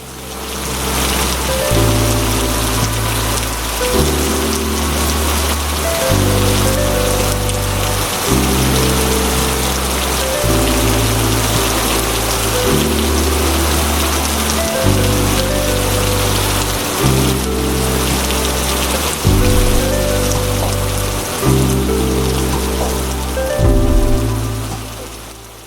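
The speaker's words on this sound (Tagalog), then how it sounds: "Tila hindi na tumigil ang ulan." Heavy rain pours in a constant dense hiss, heard alongside a loud, pulsing low musical bed that repeats in steady blocks throughout.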